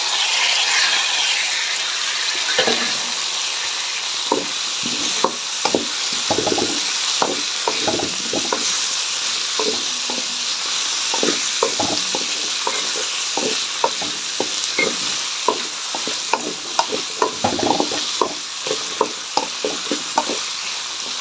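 Chopped green chillies and onion sizzling in hot oil for a Rayalaseema-style hotel gravy, a steady frying hiss broken by frequent sharp scrapes and clacks of a spoon stirring against the pan, close and continuous without speech.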